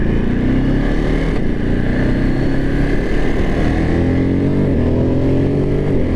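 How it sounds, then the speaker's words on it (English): A 2023 Ducati Monster SP motorcycle with a 937 engine accelerates hard, its loud engine note climbing steadily in pitch through the gears with a brief dip partway, close and continuous. "Pretty good acceleration on this bike."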